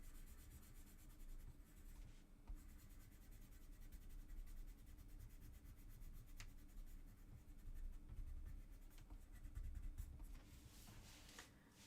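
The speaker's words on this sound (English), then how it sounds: "It's just a pencil. I'm just using a normal pencil." Steady scratchy rubbing of an ordinary graphite pencil shading on paper, soft and close, continuing with small strokes and brief pauses and no voices.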